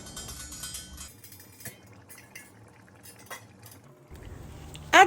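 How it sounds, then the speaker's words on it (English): Metal lid clanks onto a cooking pot of Nigerian vegetable soup at the end, after a stretch of soft kitchen clinks and stirring, one close, sharp clatter. "Cover the pot and allow to simmer for another 2 minutes"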